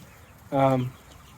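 A single short harmonic cluck from a chicken, fairly close, over a quiet background hum.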